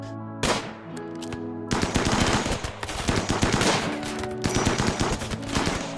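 Combat gunfire in RimWorld: rapid machine-gun bursts and repeated shots in loud, tightly spaced volleys, broken by a few brief pauses, over a low sustained music tone.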